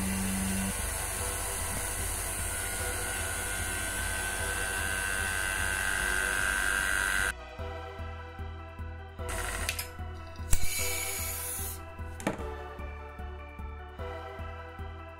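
Vacuum pump degassing epoxy resin in a wide-necked kitchen jar: a steady mechanical hum runs for about seven seconds, then cuts out, leaving sparse clicks and ratcheting handling noises.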